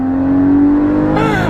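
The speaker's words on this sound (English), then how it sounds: "just listen to this exhaust" A Porsche Cayman GT4 exhaust lets out one loud, close rev: a steady droning tone holding for about a second, then rising sharply as the engine revs up, with no one talking.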